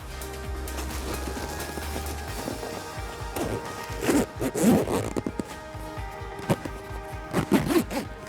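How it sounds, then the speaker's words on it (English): A zipper is pulled shut along the fabric storage bag of a folded Hobie Mirage iTrek 14 Duo inflatable kayak. The long rasping zips come close up, broken by tugs and a few knocks. "start zipping."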